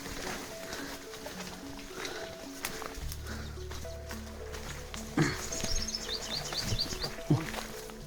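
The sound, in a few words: birds chirping in the forest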